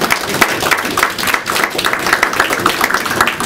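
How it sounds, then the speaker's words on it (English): A live audience claps through a round of applause at a Black History Month talk, a dense, steady patter of hands that stays fairly loud with no voices rising above it. "So give yourselves a round of applause."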